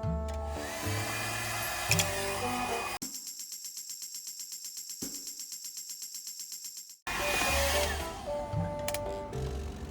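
A hair dryer runs on an EcoFlow DELTA mini portable battery, giving a steady whirring drone with a faint pulsing hum for a few seconds, set between stretches of louder background music.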